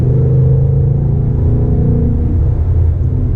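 A 2018 Ford Mustang GT accelerating hard, its deep engine rumble heard loud and steady from inside the car, with no talk over it.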